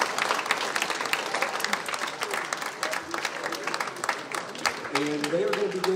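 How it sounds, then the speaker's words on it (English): A school audience gives a round of applause during an evening presentation for rising seniors, with dense, sustained clapping filling the room and voices rising faintly near the end. "why don't we give Mrs. Slayton a big round of applause for helping us out tonight"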